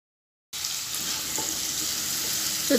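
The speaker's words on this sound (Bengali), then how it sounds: "অল্প একটু মরিচের গুঁড়ো দিয়ে আলু আর এই চিংড়িটা সুন্দর করে ভেজে নেব" After a moment of silence, diced potatoes and shrimp with a little chili powder and salt begin frying in hot oil, giving a close, continuous crackling sizzle.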